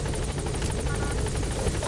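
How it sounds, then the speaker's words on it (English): Helicopter in the video game Metal Gear Solid V, a loud continuous rotor thrum and engine whine that fills the whole stretch steadily, close and unbroken with no talk over it. "Let's toss you on the chopper."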